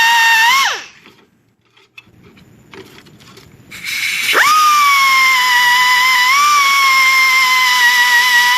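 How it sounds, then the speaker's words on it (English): A power drill bores out spot welds on the rocker end cap of a 1955 Cadillac Coupe DeVille with an 1/8 inch bit: a loud, close high whine that winds down, pauses amid faint rustling, then spins up again and runs steadily. "So I'll just drill those spot welds out and clean the cage up"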